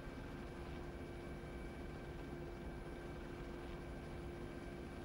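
A helicopter in a video game drones steadily, a low, even rotor and engine hum with faint tonal whine held at constant level throughout, with no speech.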